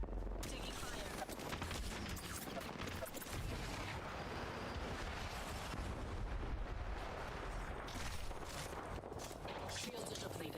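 Dense, continuous gunfire and explosive bursts from a Warframe battle, loud and sustained throughout with overlapping shots and blasts, and a voice talking over the chaos.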